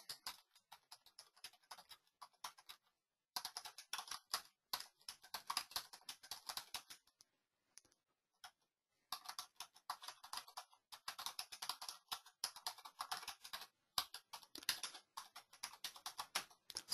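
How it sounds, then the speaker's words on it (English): Fingers tapping quickly on a computer keyboard to type notes, in irregular bursts of light, close clicks with a pause midway and no talk over them. "So I can type something in there."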